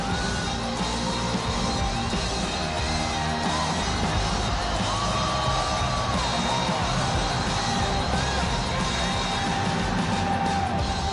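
Sold-out arena crowd in the UFC 4 video game cheering and yelling continuously ahead of a flyweight title defense walkout, a dense steady roar with scattered whoops throughout.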